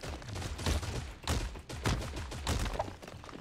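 Rapid bursts of gunfire in the mobile shooter Creative Destruction, several close volleys and thuds in quick succession with a brief lull around the midpoint, loud and continuous.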